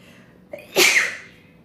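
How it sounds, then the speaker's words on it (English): A single person sneezes once, a short sharp inhaled catch followed by a loud explosive burst that trails off quickly, close and alone with no talking. "oh, sorry, I have to sneeze."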